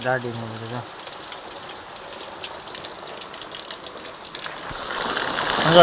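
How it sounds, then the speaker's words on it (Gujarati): Heavy monsoon rain pours during a cloudburst in Vallabhipur, with water gushing through the village streets; a steady broadband wash runs throughout, rising toward the end, and a voice is briefly heard at the start. "વરસાદ ચાલુ છે બધું પલાળી દીધું"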